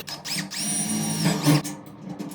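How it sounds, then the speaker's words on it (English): A power drill bores a hole while a deadbolt is fitted to a wooden rotating composter, with a steady, close, sustained whine that rises in pitch and strains briefly near the end. "we're gonna mark it, we're gonna drill it"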